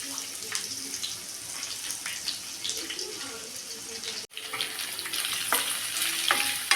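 Onion tossed into a pan with garlic and curry leaves crackles and sizzles loudly up close, with stirring scrapes and a brief break partway through, while water runs faintly in the background.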